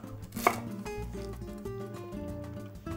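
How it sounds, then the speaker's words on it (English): A knife thinly slices a big celery stalk for vegetarian matzo ball soup, tapping on a cutting board with one sharp cut near the start and then softer regular strokes. "So 1 big stalk of celery. You'll just thinly slice this."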